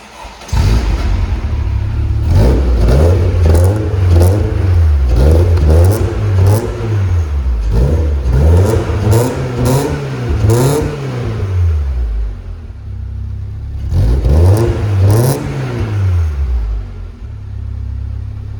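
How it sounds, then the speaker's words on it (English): A 2005 Lotus Elise's small four-cylinder engine fires up, then revs repeatedly in sharp rising and falling bursts, loud and close, before dropping back to a rumbling idle. "it might be a tiny little engine, but let's go ahead and we'll start it up"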